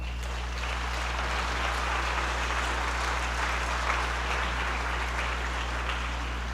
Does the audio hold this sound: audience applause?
yes